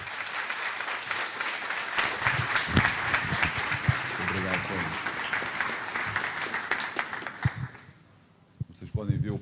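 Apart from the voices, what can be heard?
audience applause for a speaker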